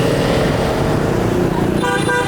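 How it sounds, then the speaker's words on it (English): Loud, dense road traffic roars close by on a busy street in Hue, Vietnam, with motorcycle and car engines droning and horns tooting repeatedly near the end. "this is the busiest road we're going to have to cross"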